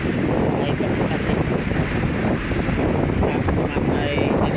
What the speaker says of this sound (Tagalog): Ganito talaga kalalaki ang alon dito po panahon ng amihan sa amin